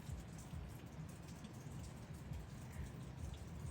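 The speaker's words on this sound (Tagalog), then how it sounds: "Rain gently falls." Rain falls steadily onto a surface outside a nipa hut on a cool morning, a dense, even patter close by with no voices.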